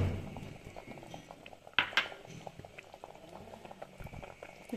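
Lentils and local turnips simmer in a covered pot, giving a quiet, steady bubbling and gurgling with a few louder pops. The sound is close but soft, with no speech.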